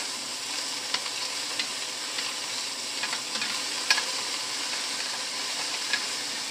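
Chicken pot pie filling sizzles and fries steadily in a pan, with scattered scrapes and clicks as it is stirred, close and moderately loud, without talk.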